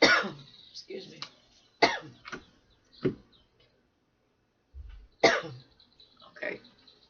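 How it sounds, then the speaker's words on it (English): Several sharp human coughs and a throat clear, close and loud, in short bursts separated by brief pauses, with a final cluster of coughs after a silence. "I never cough till I start doing readings."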